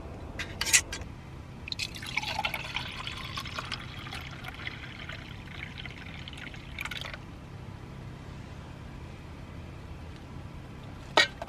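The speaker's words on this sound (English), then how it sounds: "I just like to shake it up a little bit before I pour it." Liquid pours from a lunch container in a car at night, a soft trickle and a few drips, quiet and close with no talking.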